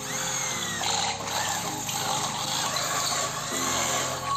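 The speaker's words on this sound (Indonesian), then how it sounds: "Kita akan coba mengebor jaringan kanal C seperti ini." A DCA AJZ01-6A electric drill with a step (pagoda) bit bores through steel C-channel, giving a steady, loud whirring and grinding that holds throughout with slight shifts in load.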